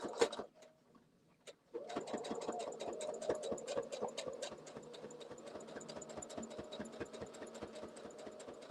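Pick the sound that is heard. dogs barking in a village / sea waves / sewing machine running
sewing machine running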